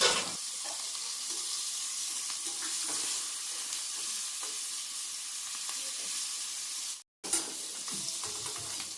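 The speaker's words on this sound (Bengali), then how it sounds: "তারপর গরম তেলে হালকা করে চিংড়ি মাছগুলো ভেজে তুলে নিতে হবে।" Prawns frying in hot oil for a Bengali chingri malai curry, a steady close sizzle and crackle with occasional stirring clicks, broken by a brief silent gap near the end.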